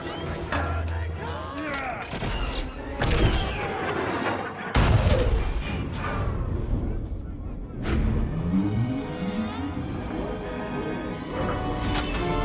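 Battle gunfire and explosions rage in Star Wars Battlefront: Renegade Squadron as Imperial troopers, AT-ST walkers and an AT-AT walker attack, with rapid blaster shots and heavy booms layered in a dense, continuous mix with a voice over it.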